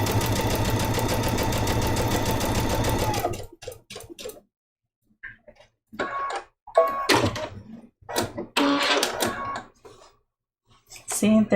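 A sewing machine stitches a pumpkin-trivet mini quilt seam with a steady, close mechanical whir for a few seconds, then stops; a voice follows in short bursts with brief quiet gaps.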